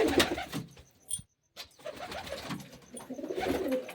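Pet pigeons perched up high after feeding give soft, low cooing calls in a few separate bursts, close by and fairly quiet, with brief pauses and a short silent gap between them.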